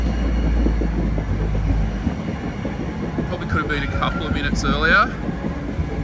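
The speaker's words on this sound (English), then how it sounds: "First tram coming in to Carlingford." A light rail tram on Parramatta's new line rumbles into Carlingford station with steady low-frequency rolling and some brief squeal near the end, while a person talks over it.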